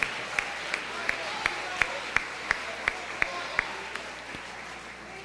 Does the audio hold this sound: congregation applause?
yes